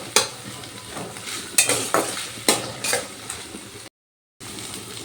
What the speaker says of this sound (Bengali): আদা বাটাটা এবার ভালো করে একটু তেলের সাথে ভেজে নেব